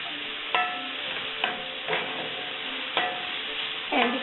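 Onion, garlic and bits of tomato frying in a skillet as a spoon stirs them, a steady soft sizzle broken by several sharp scraping clicks of the utensil against the pan, close and without speech.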